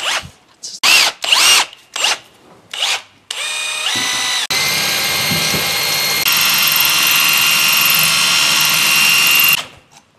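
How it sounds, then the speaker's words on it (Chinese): An electric drill fitted with an adapter grinds through floor tile while a shower fixture is being installed. It starts with short bursts, then runs as a loud, steady, sustained whine close by for several seconds. "用这个能打地砖。"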